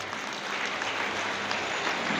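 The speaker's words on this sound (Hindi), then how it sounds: "तालियों से अभिनंदन स्वागत है।" A steady wash of applause from a seated audience at a women's day awards ceremony in Dhamtari, moderately distant, with an even crowd clapping throughout.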